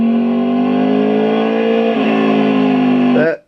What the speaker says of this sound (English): That motor is a one-of-a-kind cross-plane engine.